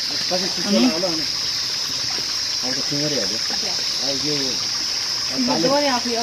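Water from a mountain spring trickles and splashes in a steady, continuous rush close by, running the whole time beneath people talking.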